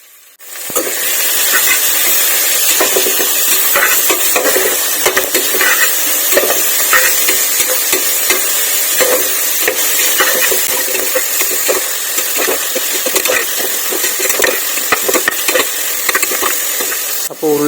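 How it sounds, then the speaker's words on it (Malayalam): Shallots, ginger, green chili, garlic and curry leaves fry in coconut oil, giving a loud, steady sizzle with scraping stir strokes throughout and no talking. "അതിലേക്ക് നമ്മൾ നേരത്തെ എടുത്ത് വെച്ച ചെറിയ ഉള്ളി, ഇഞ്ചി, പച്ചമുളക്, വെളുത്തുള്ളി, കറിവേപ്പില, ഉള്ളി ഇട്ട് നന്നായിട്ട് ഇളക്കി കൊടുക്കാം"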